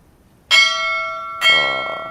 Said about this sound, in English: Never knew you could ring the bell.